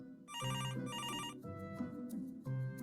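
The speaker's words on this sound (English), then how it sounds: "pick up the phone" A telephone bell rings in two clear bursts, a trilling electronic-style ring repeating close and loud, with soft background music or tones underneath and no talking.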